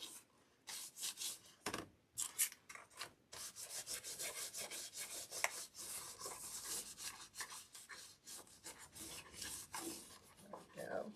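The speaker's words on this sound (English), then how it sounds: "this wax should go ahead and put like a slight coating on it to protect the chalk paint" Wax is rubbed by hand over a chalk-painted tile, giving soft scratchy strokes in quick, irregular bursts with short pauses between, quiet and close with no voices.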